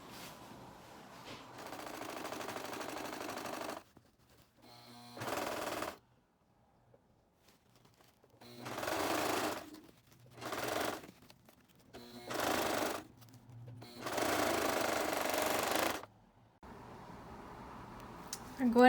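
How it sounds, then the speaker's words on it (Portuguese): An overlock sewing machine stitches the seams of a ballet bodice in several short bursts of fast mechanical whirring, separated by quiet pauses, with someone talking in between. "Aí a gente pode passar overlock abrindo, né?"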